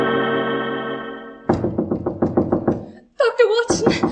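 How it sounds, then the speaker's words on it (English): A maid raps frantically on a bedroom door early in the morning, a quick burst of about eight loud knocks after a sustained musical chord, followed by an urgent voice calling out. "I was awakened by the maid rapping frantically at my door."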